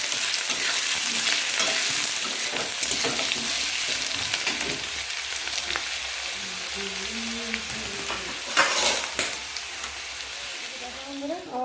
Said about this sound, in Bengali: আর এই যে আলু, ক্যাপসিকাম, কাঁচা লঙ্কা, আদা দিয়ে আলুটা কষাচ্ছি ভালো করে।